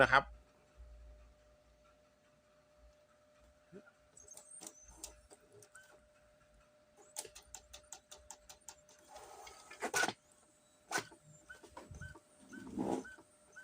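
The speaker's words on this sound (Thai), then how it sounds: "ริ้นได้ปกตินะครับผม" A Brother printer prints after an error fault is cleared, with whirring motor runs, rapid mechanical ticking and clicks and a rattling feed near the end, faint and close, with someone talking in short bursts.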